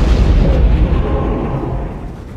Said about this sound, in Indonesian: menggunakan granat yang dibawa oleh salah satu zombie itu